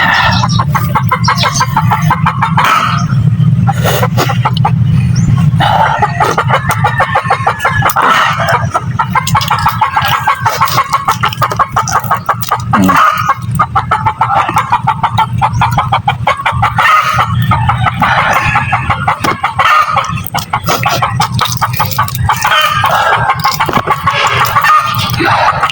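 A flock of chickens cluck busily and loudly close by, with roosters crowing now and then among the constant clucking, in a dense, continuous farmyard din.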